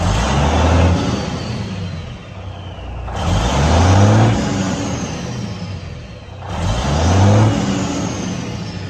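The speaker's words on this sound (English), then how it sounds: "Okay, let's get this, I'll rev it up again." A 2000 Kenworth W900L truck engine revs up three times in a row, each deep rumbling rise swelling and falling back to idle, close and loud with no talking.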